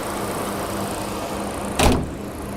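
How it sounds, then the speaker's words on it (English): A single solid door thud from a 1997 Mercedes-Benz S320 W140, a short close impact standing out clearly over a steady low background hum. "Here inside the interior, first let's check the thud of the door."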